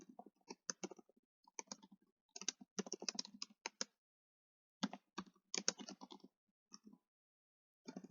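Quiet keystrokes on a computer keyboard tap out in irregular bursts of rapid clicks with short pauses between them, close and clear with no talking.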